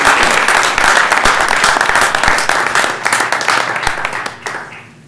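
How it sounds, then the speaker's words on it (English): Applause from the audience at a special village board meeting, steady dense clapping filling the room before gradually thinning out toward the end. "If we can give those folks a round of applause for their work."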